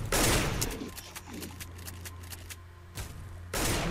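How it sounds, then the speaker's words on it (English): Gunfire in a tactical shooter game during a round of planting bombs, with loud bursts of shots at the start and end and sparser single cracks between them over a steady low hum. "I'm still shooting this RPK guy"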